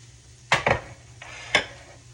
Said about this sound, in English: I'll put them in a little bowl.